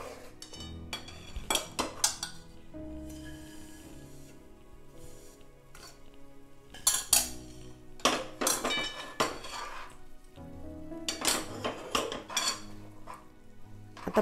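A spoon scrapes and clinks against a pan while a rava coconut laddu mixture is stirred with the gas turned off. The metallic scraping comes in irregular bursts with quieter pauses between them, close up and with no talking.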